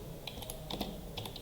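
Close, quiet tapping of a computer keyboard while Java code is written, a quick run of light key clicks in uneven bursts with no voice.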